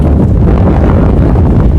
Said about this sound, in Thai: โอ้ยลมนี่นะเว้ย ลมอันนี้